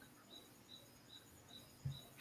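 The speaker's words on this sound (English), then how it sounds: "The sound of crickets." Crickets chirp faintly in a short sound effect, giving five evenly spaced, high, thin trills against a quiet background, with one soft low thump near the end.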